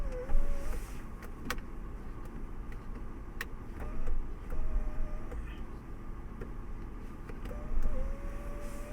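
Moonroof on a 2019 Toyota 4Runner TRD Pro sliding open inside the cabin, a steady low motor hum with a couple of brief whirring surges and small clicks.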